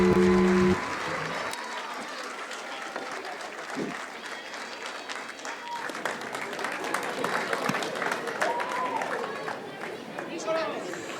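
Audience at a faculty and student drama club play at IIM Ahmedabad breaks into loud, sustained applause that continues steadily throughout, with crowd chatter mixed in after a brief voice at the start.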